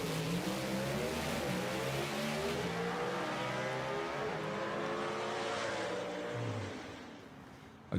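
The MTO Motors Double X Delray race car roaring through a drag run at Brainerd Motorsports Park, a loud sustained engine with rising and shifting tones that fades slightly near the end.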